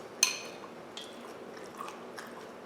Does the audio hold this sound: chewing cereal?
yes